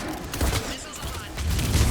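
Missile volley launched in Mass Effect 3, a dense burst of rapid explosive thuds and whooshes filling the short moment, loud and close, with a voice speaking over the barrage.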